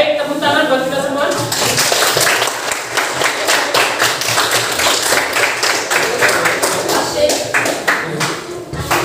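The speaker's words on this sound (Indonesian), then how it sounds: "tepuk tangan buat kita semua." Audience applause in a coding and artificial intelligence class, steady close clapping from a group lasting several seconds, with voices underneath at the start.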